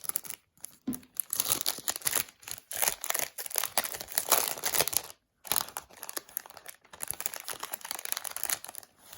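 Crinkly plastic rustling and tearing up close, with bursts of crackling and a brief pause midway, as zip bags holding glass rhinestones for a diamond painting kit are pulled open.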